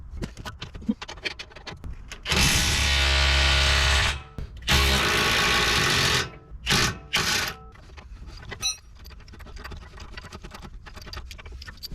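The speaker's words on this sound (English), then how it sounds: "now I'll impact this one off" An impact wrench removes spline head bolts on a VW Transporter wishbone, rattling loudly in two long bursts followed by several shorter hammering pulses, with a low clattering background in between.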